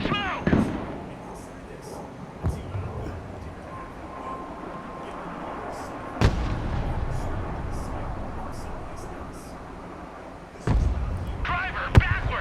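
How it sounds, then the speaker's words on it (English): Tank cannon fire from the war game Broken Arrow: several sharp booming shots ring out over a steady rumbling battlefield background, with a voice talking at times. "that tank's gonna shoot back"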